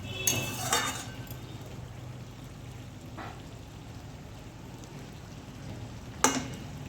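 A metal spatula clinks against a pot of chicken curry with potatoes, a few sharp scrapes and taps spaced apart over a quiet low simmer.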